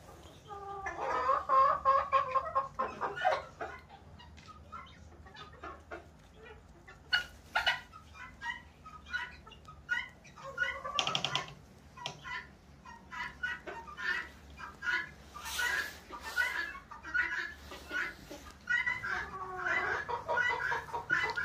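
Chickens and roosters on a farm cluck and call in scattered bursts for a long stretch, with a dog barking occasionally in the mix.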